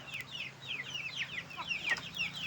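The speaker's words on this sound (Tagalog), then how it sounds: "Bangad tong mga manok na to." Several chickens cluck close by in a quick, continuous run of soft chattering calls.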